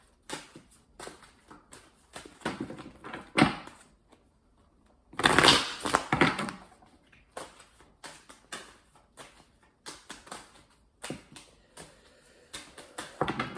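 Tarot cards shuffled by hand in short papery riffling bursts, with one louder, longer shuffle midway and softer shuffles scattered before and after, close and alone.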